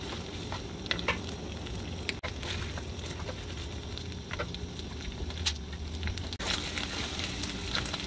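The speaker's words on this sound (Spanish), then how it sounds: "vamos a colocar la salchicha y vamos a dejar freír por 3 minutos más" Chorizo, bacon and sausage fry in a pan with a dense, steady sizzle and crackle, scattered with small pops and spits over a low rumble throughout.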